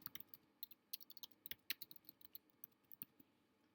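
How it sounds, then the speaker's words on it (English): Quiet, fast typing on a computer keyboard, an irregular patter of crisp key clicks heard close with no talk. "You can see that I'm just typing in for my title here"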